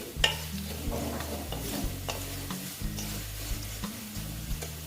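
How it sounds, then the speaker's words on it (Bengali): Ash gourd and lentils frying together in a pan, a steady sizzle broken by repeated scraping strokes of a spatula stirring, close and moderately loud. "আমি একসঙ্গেই সব ভেজে নিচ্ছি"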